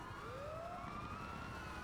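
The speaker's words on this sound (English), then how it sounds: "Siren's still on." A police car siren in GTA 5 rises in a steady upward wail, loud and continuous over constant rumbling engine and traffic noise.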